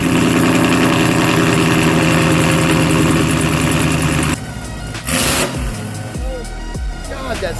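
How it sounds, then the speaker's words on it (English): A 2018 Chevy Camaro ZL1 with 2-inch headers and no catalytic converters idles with a loud, lumpy, throbbing rumble, then cuts off abruptly into a quieter stretch with short bursts of noise and voices. "No cats and the 2-inch headers. I mean, this car sounds amazing."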